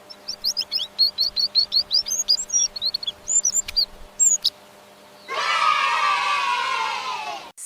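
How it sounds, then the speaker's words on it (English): A canary sings a rapid series of bright, trilling chirps and warbles, loud and close, followed by a burst of children cheering and shouting. "Canary. Sweet, tweet."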